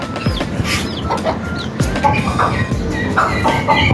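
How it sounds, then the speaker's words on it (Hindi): Newborn parrot chicks give repeated short chirping and clucking calls close by, irregular squawks overlapping with rustling and light knocks in a busy, cluttered space. "तोतों के न्यू बॉर्न जो हैं।"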